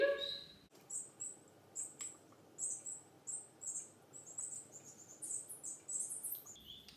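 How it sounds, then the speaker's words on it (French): Seven newborn baby birds chirp indoors, rhythmic bursts of high thin peeping repeating every half second or so against a quiet room, with a brief louder sound at the very start. "c'est pour ça que vous entendez le bruit des oiseaux"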